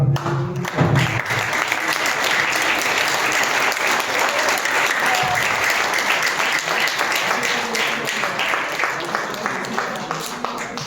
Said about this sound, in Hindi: जब भी खड़े होते हैं तो ताली बजाकर धन्यवाद।